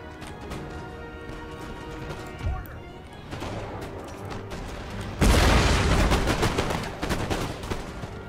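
Battle in Empire Total War outside Moscow, with scattered musket shots and booms that swell into a loud, dense burst of volleys and cannon fire, then thin into ragged crackling.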